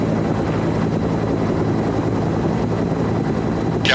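A rescue helicopter hovers at a mountain ski rescue, its rotor and engine making a steady, loud, close roar that fills the whole stretch without a break.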